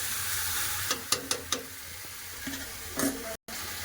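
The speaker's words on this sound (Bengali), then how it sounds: "পেঁয়াজের সাথে মাংসটা ভালো ভেজে দেবো" Meat frying with onions in a pan, a steady close sizzle with a few sharp stirring scrapes and clinks breaking through.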